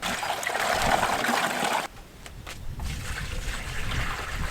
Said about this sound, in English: fill your bucket with water, and then you just dump it in the green stock